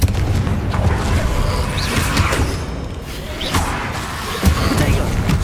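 Confringo fire-blast spell in Hogwarts Legacy combat: a rumbling, noisy blast with thuds and whooshes, one sharper impact near the end, amid busy battle sounds.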